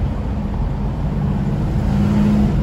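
A 1968 Buick GS 400 cruises down a road, its engine and tyre rumble forming a steady, close, fairly loud drone for a few seconds with no talk.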